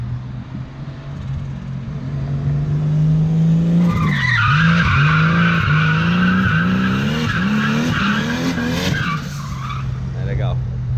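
A Nissan Skyline's RB25 engine revs hard and rises and falls in pitch alongside squealing tires, loud and close, with a voice briefly audible over it.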